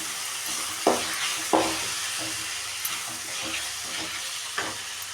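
Tomatoes, ginger and garlic sautéed for hotel-style kara chutney, a continuous close sizzle broken by a few sharp spatula scrapes and knocks against the pan.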